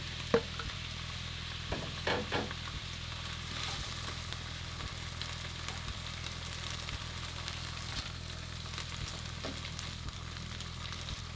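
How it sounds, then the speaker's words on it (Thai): Chinese sausage stir-fries in a pan with a faint, steady sizzle and a few soft scraping stirs near the start. A low mechanical hum runs underneath and no one speaks. "แล้วก็กุนเชียงนะครับ ที่เราเตรียมไว้ก็ใส่ลงไปผัดได้เลย"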